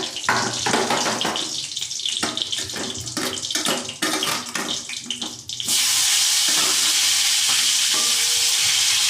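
Chopped tomatoes cooking in oil in a pan for an onion- and garlic-free spiny gourd curry: a few seconds of stirring scrapes and bubbling give way to a loud, steady, close sizzle.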